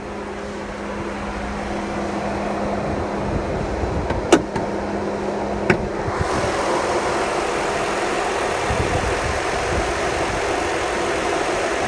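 A 2006 sedan at a Copart salvage yard idling steadily up close, a constant mid-pitched engine drone with a couple of brief clicks partway through and no talk.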